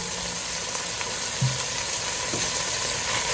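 Chopped black olives fry with shrimp in a pan, giving a steady, dense sizzle with a light scrape or two of stirring in the middle.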